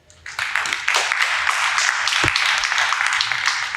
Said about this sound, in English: Another round of applause for our debaters.